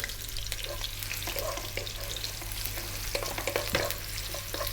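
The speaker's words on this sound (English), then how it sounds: "We're going to drop in our ginger and our garlic" Ginger and garlic sizzling in hot oil over high heat for a Chinese vegetable stir fry, a steady faint crackle with small pops and scraping from stirring, over a low hum.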